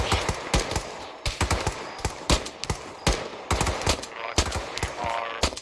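Gunfire in the video game Arma 3 during a milsim operation: repeated bursts of machine-gun and rifle shots, sharp and loud, spaced irregularly across the clip with short pauses between volleys.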